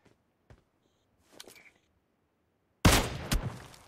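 In PUBG Mobile, a few faint soft pops come first, then a loud burst of rapid suppressed gunfire erupts near the end and carries on to the close.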